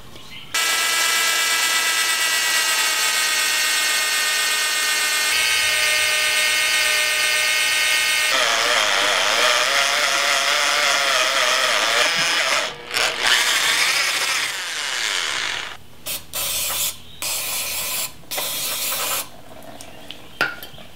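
Drill boring a small 5/16 hole into a metal casting, a steady high tonal whine for most of the run that grows rougher, then stops and restarts in short bursts near the end, with no talk.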